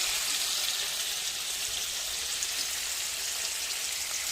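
Paneer fries in a pan with a soft, continuous hiss of hot oil that sounds like light rain and stays even throughout.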